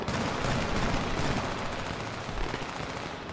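Video game gunfire in a squad firefight, with dense, rapid bursts of automatic shots crackling continuously at moderate loudness amid chaotic battle noise.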